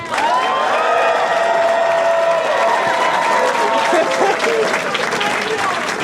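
An audience at a comedy roast battle in Washington, D.C. cheers and whistles over sustained applause. The loud, continuous roar fades slightly toward the end.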